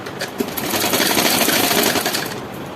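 A domestic sewing machine stitches a blouse, its rapid mechanical chatter running loud and close for a few seconds, swelling in the middle and easing slightly at the end.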